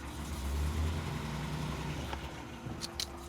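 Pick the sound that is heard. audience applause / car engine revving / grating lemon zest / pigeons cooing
car engine revving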